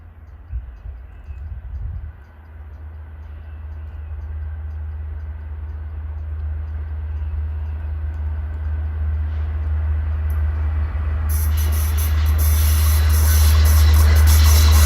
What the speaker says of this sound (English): We get a couple of trains at the Nissequogue River trestle west of Smithtown.